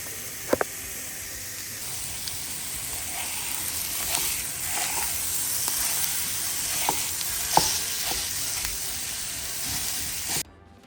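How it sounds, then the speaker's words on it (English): Ground breakfast sausage meat sizzles and fries in a pan, a steady close hiss with occasional scraping stirs and a couple of sharp clanks near the start, no talking. "grind it up and cook the meat all the way until it's no longer red"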